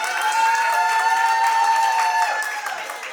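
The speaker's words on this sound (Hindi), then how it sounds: "बस इन जोरदार तालियों को बजाते रहें" Wedding sangeet audience clapping loudly and continuously, a dense wash of applause with a sustained musical tone ringing underneath and no pauses.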